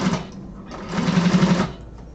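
A sewing machine bastes fabric along a raw edge about 1/8 inch in, a steady mechanical whirring of stitches running in two short loud bursts with a brief pause between.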